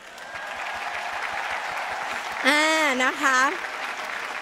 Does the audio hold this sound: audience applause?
yes